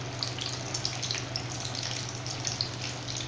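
Aval vadai frying in hot oil, giving a steady, dense crackling sizzle that holds at an even level throughout, with no talking.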